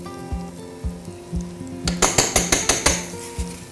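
Butter and onion in an already-hot frying pan, heard as a series of sharp clattering hits like a utensil striking the pan, with a light sizzle underneath.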